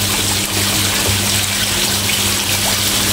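Water pours in a steady, loud, continuous stream into a pot of mackerel cooking with ginger and a little salt, with a constant low hum from the stove underneath.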